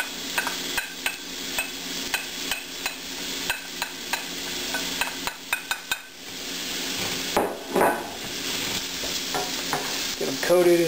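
Chopped onions, green pepper and white mushrooms frying in olive oil for a low-carb pizza topping, with a constant sizzle and regular sharp clacks of a utensil stirring against the pan.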